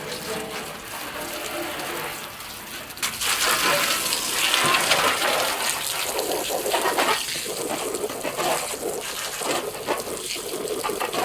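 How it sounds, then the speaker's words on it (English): Water gushing and splashing steadily as a wheelbarrow is hosed out, a broadband rushing spray that swells after a few seconds and keeps going, close and fairly loud with no voices. "I'll wash the barrow out, wash that out"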